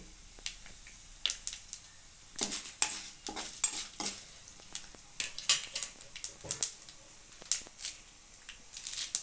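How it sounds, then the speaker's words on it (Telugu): Tempering spices with a pinch of turmeric sizzling in hot oil for a brinjal roti pachadi, heard as bursts of crackling and spattering with stirring clinks, sharp irregular pops rising and falling close by. "చిటికెడు పసుపు కూడా ఈ తాలింపులు వేసుకుందామండి."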